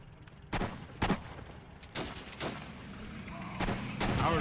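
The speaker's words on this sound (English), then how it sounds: "Our troops are under fire." Gunfire and artillery from the World War II strategy game Blitzkrieg 3, with sharp separate shots and booming impacts at irregular intervals over a low battle rumble.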